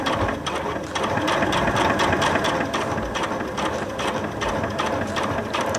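A sewing machine stitches fabric slowly around a curve for an appliqué heart cushion cover, giving a close, continuous mechanical whirring clatter with a steady rapid rhythm.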